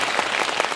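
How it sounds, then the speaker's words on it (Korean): Audience applause at a live talk event for the film Swing Kids, a dense, steady wash of clapping from a crowd, fairly loud and continuous with no talk over it. "박수 한번."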